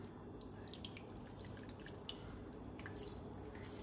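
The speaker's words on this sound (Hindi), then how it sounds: "मूली हमने निचोड़ ली है और ये पानी इसमें से मूली का पानी निकला है" Liquid drips from hand-squeezed grated radish (mooli) for parantha: faint, close, irregular drips and small splashes over a quiet kitchen background, with no speech.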